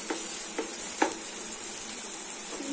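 Tomatoes frying in a pan for a pasta masala curry, with a steady sizzle and a few soft scraping stirs spaced about half a second apart, close and alone without talk.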